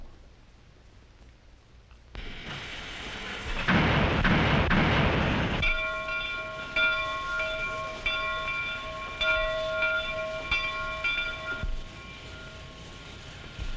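A steam locomotive rumbles and hisses as it starts moving, with a loud burst of noise, then sustained whistle tones over clattering rail noise.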